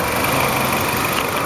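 A 2.4-liter dual VVT engine in a 2010 Dodge Avenger idles steadily with a smooth, even hum and no voices, close by and continuous throughout.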